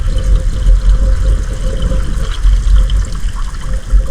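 Filtered water pours in a steady, close splashing stream, bubbling and gurgling continuously throughout without pause.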